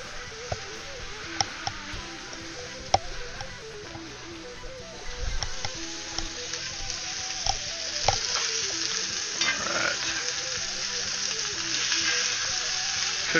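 Cevapi frying in a pan on the stove, giving a steady close sizzle with occasional stirring clicks and scrapes; the sizzle grows a little louder and busier partway through.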